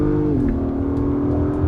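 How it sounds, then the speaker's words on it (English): A 2022 Acura MDX Type S in Sport mode revs its engine in one quick blast, a loud steady growl whose pitch rises briefly and then holds, heard up close with no talking. "Immediately you hear it revving up, and we're gonna give it one quick blast here."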